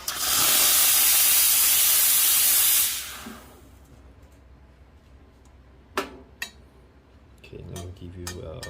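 A steam wand on a Cafelat Robot manual espresso setup blasts a loud, close hiss for about three seconds, then cuts off, followed by a few sharp clinks of metal and cups.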